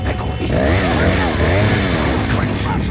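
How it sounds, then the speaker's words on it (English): A chainsaw revs in the Resident Evil 4 video game, a loud continuous buzzing engine drone that rises and falls in pitch, blended with game sound and voices. "Chainsaw."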